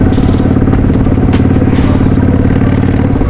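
Custom chopper motorcycle with a 5-speed gearbox, ridden along with a loud, close, steady pulsing engine rumble and rapid regular firing beats throughout.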